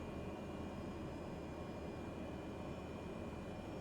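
Steady, faint aircraft engine drone as a small plane taxis in Microsoft Flight Simulator on the Westray to Papa Westray route, a constant broadband rumble with a thin tonal whine and no talking.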